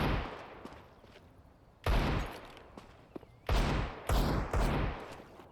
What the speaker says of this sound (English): Getting those Deagle shots downrange as the smoke obscures everything